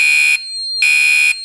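Two loud, harsh blasts from a fire alarm horn triggered by a pull station, separated by a short gap in which a faint steady tone lingers.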